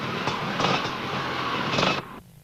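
A Kawasaki motorcycle ridden by Warren Hughes races past at the Brechfa enduro, a loud, close engine roar that surges twice before dropping away abruptly into quieter background noise.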